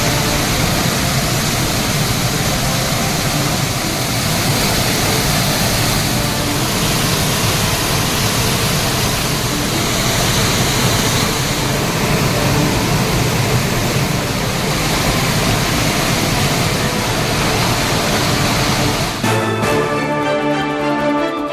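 Thirparappu waterfall in Kanniyakumari, swollen after rain and dam water releases, roars as a dense, unbroken rush of falling water that stays loud and steady throughout, with no voices.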